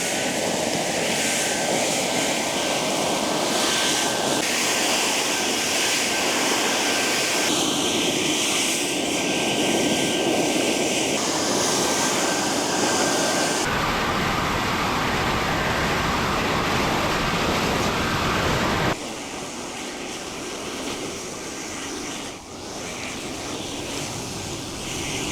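A STIHL BRA 600 backpack blower with its nozzle set narrow roars loudly and continuously while blasting debris, its rushing air shifting in tone in several abrupt steps as the nozzle moves, then easing slightly toward the end.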